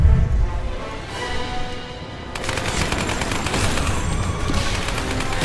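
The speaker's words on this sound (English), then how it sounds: "So we're gonna shoot these skeletons up the pillars." Rapid gunfire rattles through a Lara Croft and the Temple of Osiris battle against skeletons, starting sparse and turning into a dense, continuous fusillade of video game shots over a rumbling backdrop.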